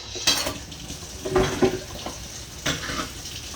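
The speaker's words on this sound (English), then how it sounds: "Let me get this skillet out of the way over here." Cast iron skillet being shifted on a kitchen stove, a few clanking metal knocks and scrapes, close and moderately loud, with no talking.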